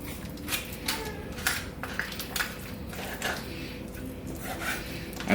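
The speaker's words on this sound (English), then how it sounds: "with a sort of a scraping motion with the tip of my knife" A knife tip scrapes along the rib cage of a whole turkey during boning, producing soft repeated rasping strokes at close range, gentle and uneven in rhythm.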